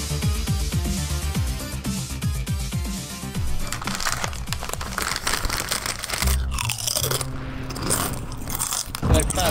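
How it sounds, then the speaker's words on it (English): Loud crunching of chips right up against a microphone during Call of Duty Modern Warfare 2 play, steady close bites and crinkles that continue throughout over game sound. "Fuck, you wanna quit chewing in my goddamn ear?"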